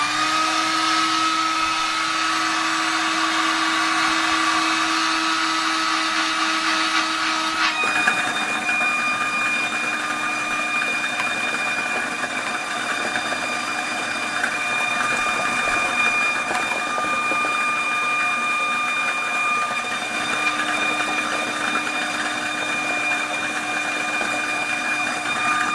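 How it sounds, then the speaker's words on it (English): A homemade Powerball lottery ball machine runs with a steady, loud mechanical whir and hum that shifts in pitch partway through, with a faint clatter of balls inside and no voices. "So I plug the machine up and wish me luck."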